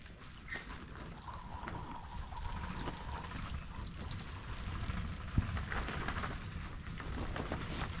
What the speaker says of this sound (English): I'm just going to water them a little bit